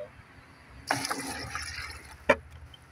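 A dipper pours water onto a bougainvillea plant in a short, close gush that splashes and trickles, followed by a single sharp splash near the end.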